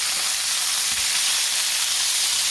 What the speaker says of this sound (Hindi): इसका भी अच्छे से हम करेंगे फ्राई, इसका कलर चेंज होने तक